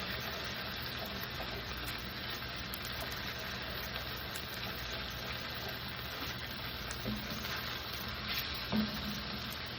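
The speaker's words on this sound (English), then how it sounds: "A plop of garlic. And we're going to cook this down just a little bit." Garlic cooks in a pan with a steady, quiet sizzle and crackle, a continuous even hiss close by with a small pop near the end and no talking.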